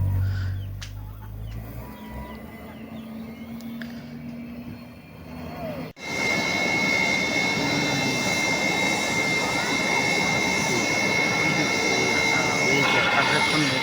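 A military aircraft takes off from a four-lane national highway during a landing exercise. A steady loud engine roar builds after a few seconds and holds strong, with faint people talking in the background.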